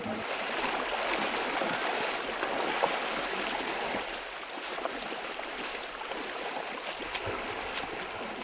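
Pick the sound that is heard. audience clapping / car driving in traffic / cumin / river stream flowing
river stream flowing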